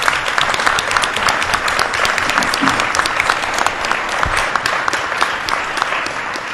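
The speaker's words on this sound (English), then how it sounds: "let's give him a round of applause." A roomful of people at a community reconstruction meeting in Ulster County gives a round of applause, sharp individual claps standing out from a continuous loud wash that carries on for several seconds without letting up.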